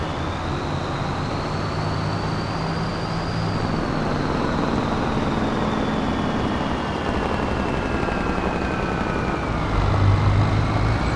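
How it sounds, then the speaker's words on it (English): A tractor's Jake brake in the Farming Simulator 25 video game gives a steady, loud engine drone with a slowly falling whine, continuous and with no talk. "There's a Jake brake on the freaking tractor."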